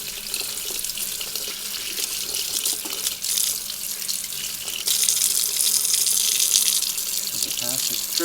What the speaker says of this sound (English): what I'm going to do is blow some water through it.